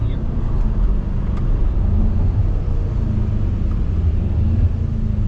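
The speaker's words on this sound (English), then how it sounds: "You hear the turbo a lot too." A BMW F90 M5's turbocharged engine rumbles steadily from inside the cabin as the car accelerates, a dense, loud, low drone with no clear pitch sweep.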